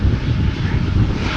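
KLM flight 1753 departing Schiphol for Bremen, a continuous low rumbling engine roar at steady loudness throughout, heard from outside the airport without voices.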